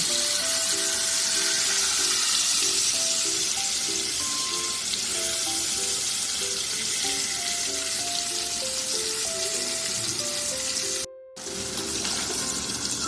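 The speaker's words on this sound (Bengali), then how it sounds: "সেখানে আরেকটু তেল দিয়ে এখন পনিরগুলো ভেজে নেব" Paneer fries in oil in a pan, a steady hiss and sizzle under background music with a short break near the end.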